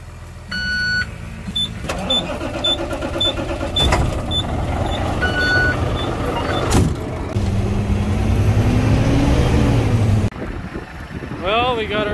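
An old truck engine used during harvest with Gleaner S98 combines, mechanical clatter and rumble with a rising engine drone, several beeps and sharp knocks mixed in, fairly loud and steady.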